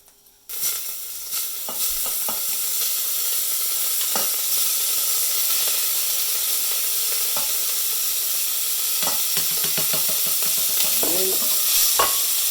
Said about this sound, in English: we're just going to fry the old meat